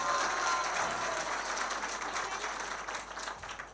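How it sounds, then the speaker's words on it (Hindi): An audience at a mushaira poetry recital claps in a steady, even wash of applause that holds through the whole stretch and thins slightly toward the end. "भाई शेर का जोरदार तालियों से पूरा मजमा पहले इस्तेकबाल करें"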